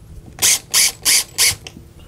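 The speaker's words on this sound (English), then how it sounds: "we're just gonna throw three screws in here" A power driver sinks screws into a wooden Journey arcade cabinet during restoration, four loud, evenly spaced whirring bursts about a quarter second apart, close up, with no talk.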